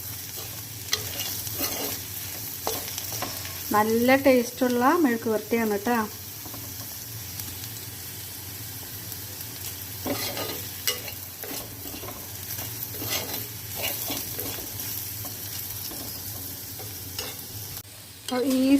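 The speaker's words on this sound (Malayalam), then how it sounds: "ഇനി അതിലിട്ട് നന്നായിട്ട് മൊരിച്ചെടുക്കുക." Okra and dried shrimp stir-frying in a pan with chilli powder, a soft steady sizzle with occasional stirring scrapes, under intermittent talking.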